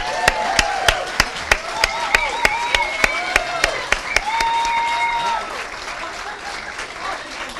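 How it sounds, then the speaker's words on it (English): An audience at a commencement ceremony applauds, with sharp, evenly spaced loud claps near the front standing out over the crowd's clapping before it thins and fades toward the end. "And let's give Jana another applause."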